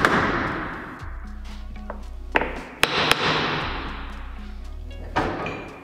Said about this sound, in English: I have a piece of softwood and my trusty hammer, and we can just gently tap it